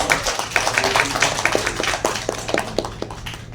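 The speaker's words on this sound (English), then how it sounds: "Let's give a round of applause to David and Jesse" A small audience at a day-long course claps briefly, the scattered hand claps close and uneven over a low background hum.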